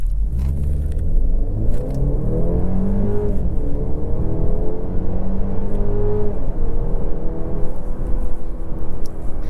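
A 2024 Mercedes E350 4Matic with a four-cylinder engine accelerating hard from 0 to 60 in sport mode, a loud close engine hum rising in pitch through several gear changes, with steady road rumble underneath.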